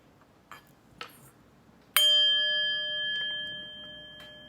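A single bright chime strikes once and rings out with a long, sustained metallic decay, following a few faint taps in an otherwise quiet room.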